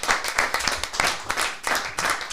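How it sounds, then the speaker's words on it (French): An audience applauds a guest at a French-language talk, with close, dense clapping that pulses steadily for a couple of seconds. "Est-ce que vous pouvez applaudir Salim, s'il vous plaît?"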